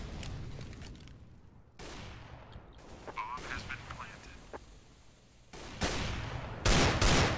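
Desert Eagle pistol fire in Counter-Strike on the Mirage map: a few sharp, loud shots spaced apart amid other gunfire and game noise, with a commentator talking over them.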